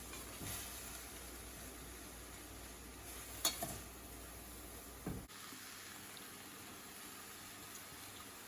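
Vegetables stir-frying in a pan with coconut cream for Asian noodles, a steady soft sizzle and bubbling hiss throughout, with a couple of brief scraping clatters of a utensil against the pan.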